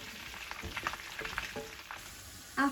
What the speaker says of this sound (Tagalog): Let's add a bit more oil because you need to deep fry the potato.